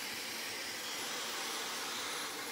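A hairdryer runs in a hair salon, blowing a steady, airy hiss that is broad and fairly quiet. It holds unchanged for the whole stretch with no voices heard.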